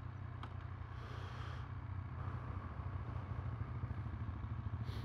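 A Triumph Speed Triple RS motorcycle engine idles with a steady low exhaust rumble and light mechanical clatter, fairly quiet and continuous throughout.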